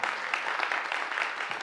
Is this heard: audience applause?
yes